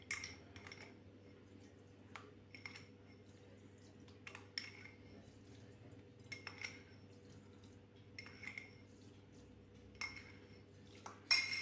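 A metal tablespoon clinks faintly against a container several times while scooping and adding sugar, a soft spaced tapping over a quiet background hum.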